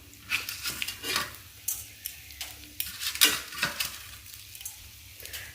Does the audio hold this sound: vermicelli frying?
yes